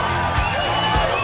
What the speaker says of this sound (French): Vous pouvez tous applaudir très fort,